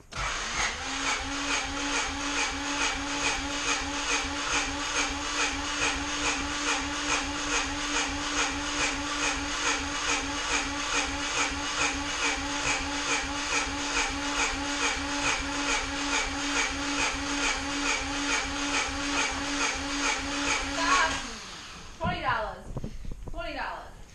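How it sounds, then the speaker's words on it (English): A Honda CRX's starter motor cranks the engine during a compression test, a long, steady, rhythmic whirring churn with regular pulses that stops abruptly near the end, followed by brief clatter. "you're gonna burn the starter out if you keep cranking it like that"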